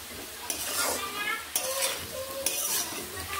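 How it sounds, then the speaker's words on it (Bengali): Potato pieces tossed with spice powder sizzle steadily in a pan as they fry until reddish and soft, with three sharp stirring scrapes against the pan breaking through the close, continuous crackle. "আলুগুলো প্রায় ভাজা হয়ে গেছে।"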